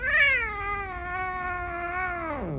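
A cat gives one long, drawn-out meow with a steady, sung quality, close and fairly loud, falling off in pitch at the very end; no one speaks over it.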